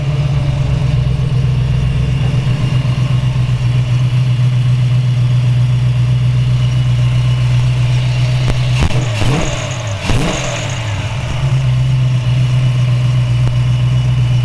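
A 1947 Ford Woody Wagon custom with a 302 V8 idles steadily and loud up close, with a low, even engine drone and a couple of brief blips or revs partway through.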